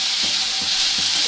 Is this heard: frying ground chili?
yes